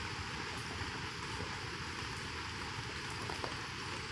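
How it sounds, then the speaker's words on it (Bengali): Heavy rain pours steadily among banana trees, a dense, unbroken hiss of drops close by with no voices. "আজ প্রচুর বৃষ্টি হয়েছে, বৃষ্টির ভিতরে দাঁড়িয়ে আছি"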